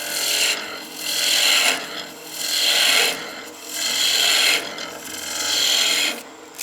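A large skew chisel takes repeated downhill cuts on a wooden spinning top on the lathe, a raspy shearing swish rising and falling in about five long strokes, close and steady with no talking.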